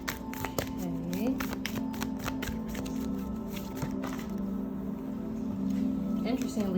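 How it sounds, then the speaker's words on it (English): Tarot cards riffled and shuffled repeatedly in quick, papery bursts with taps, close up, under a person talking. "I keep shuffling, and there's like a whole bunch of cards that are falling out"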